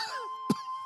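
A person gives a single short, sharp cough, close by, after a faint tonal squeak, with quiet around it.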